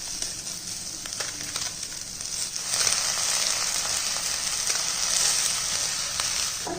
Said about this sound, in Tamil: இதையும் லைட்டாக ஒரு வதக்கிடுவோம்.